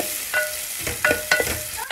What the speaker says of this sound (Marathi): आता कांदे करपतील म्हणून लगेच ढवळून घ्यायचे आणि गॅस मोठाच ठेवायचा